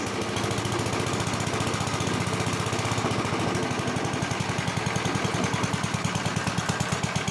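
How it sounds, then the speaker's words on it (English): A 1965 Gravely tractor engine idling on its own, a fast, even, chugging pulse that stays steady and close throughout. "All right, she's idling on her own"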